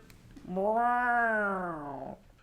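A person imitates a cat with one long, drawn-out meow that rises and then falls, close and clear against near silence.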